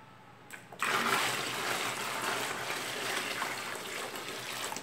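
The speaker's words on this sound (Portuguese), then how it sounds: "vou colocar mais água agora" Water poured into a 13-litre bucket while making homemade liquid soap, starting after a short quiet moment as a steady, fairly soft rushing splash that continues to the end.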